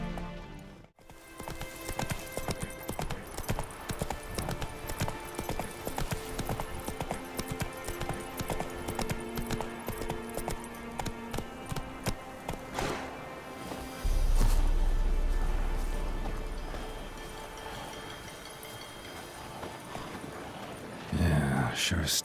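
Horse hooves clip-clop at a steady gallop in The Witcher 3 video game, running rhythmically through most of the clip beneath ambient game music and sound effects.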